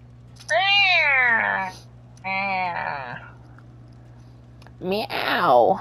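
A person's voice imitates a cat, producing three drawn-out, wavering meows with pauses between them, close and fairly loud over a faint steady background hum, in a Dead by Daylight game session.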